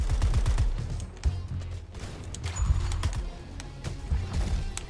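Rapid gunfire crackles steadily in Suicide Squad: Kill the Justice League, dense bursts and impacts layered over game noise throughout the whole stretch.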